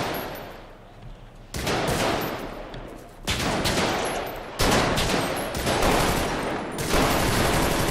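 Loud bursts of rapid gunfire in several long volleys separated by brief pauses, harsh and close, with no talking, from a GTA video game police-style operation.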